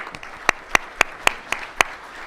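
A handful of people at a village council meeting clap slowly and evenly, about six distinct claps spaced half a second apart in a quiet room.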